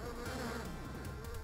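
Insect buzzing from the arcade game Dragon Spirit, a dense steady electronic drone that fills the whole moment at moderate loudness with no voices over it.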